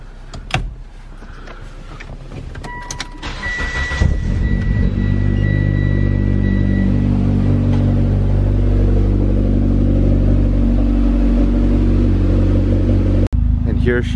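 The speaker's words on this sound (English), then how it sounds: "just letting the car start up, get out of the garage and kind of warm up" A car engine turns over on a cold start and settles into a steady, rumbling warm-up idle that continues at an even level, with a few brief clicks and whirs before it.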